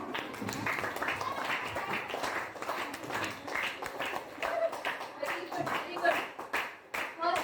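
Students at a government school public speaking event clap together, a loose, uneven patter of hands that swells and dips in waves, with voices talking faintly underneath.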